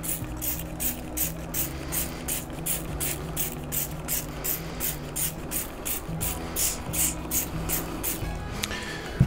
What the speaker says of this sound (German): Dann sprühen wir das Fleisch ein und ruhig aufs Papier hier auch ordentlich Flüssigkeit.